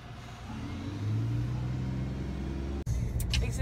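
Car engine heard from inside the moving car, a low steady rumble that rises as the car speeds up, then a brief dropout before the cabin drone resumes with a few faint clicks.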